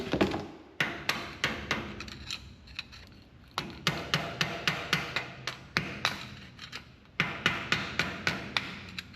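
Hammer knocking on dump truck brake parts, a run of sharp metallic strikes in quick bursts of several blows separated by short pauses, close and loud with no talking.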